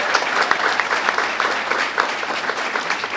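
A graduation audience at Charlotte Prep claps for the named graduates, a dense, steady round of applause that stays loud and even from start to finish, with no voices breaking through.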